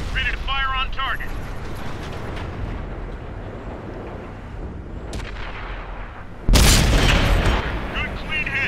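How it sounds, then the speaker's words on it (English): A tank cannon fires at a target in World of Tanks, a sudden heavy boom partway through after a stretch of rumbling engine noise, with voices talking over the game sounds. "Ready to fire on target."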